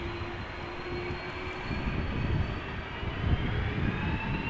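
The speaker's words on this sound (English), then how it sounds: "at the threshold there's an A330 from Delta ready to go. It is already spooling up, as you guys can hear." A Delta Airbus A330-300 spools up its jet engines at the runway threshold at Amsterdam Schiphol, a steady, rising roar heard from a distance that swells slightly toward the end.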